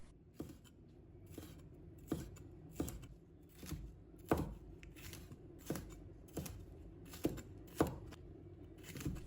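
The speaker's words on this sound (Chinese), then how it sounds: "在中间切1刀，把里面的辣椒籽去掉， 再改刀切成小块" A knife chops a chili pepper into small pieces on a cutting board, with about a dozen sharp, evenly spaced chops at a steady rhythm, close and alone.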